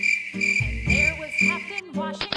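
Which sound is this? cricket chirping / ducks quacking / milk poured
cricket chirping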